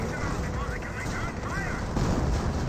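A Nebelwerfer rocket artillery barrage in Company of Heroes makes a dense, rumbling wash of launches and distant impacts, continuous and fairly loud under a commentator's talk.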